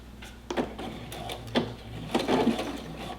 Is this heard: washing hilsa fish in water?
no